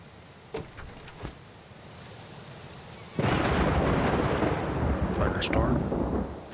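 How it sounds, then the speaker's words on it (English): A thunderstorm in the video game SCUM: a few faint cracks over steady rain, then a loud rolling thunder swells in and holds as a heavy wash of rumble and downpour, with crackles near the end. "Thunderstorm."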